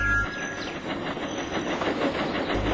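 A Thomas-style engine puffing away along its track in a model re-enactment, with rhythmic rolling chuffs and rail rattle at close range, loud and steady with no voices.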